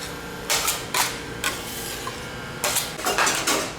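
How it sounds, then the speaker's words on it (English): A bench scraper and offset spatula scrape and agitate Swiss couverture chocolate across a work bench, giving repeated broadband scraping strokes at an uneven rhythm, close and loud. "we're just using a bench scraper and an offset spatula. And moving and agitating our chocolate"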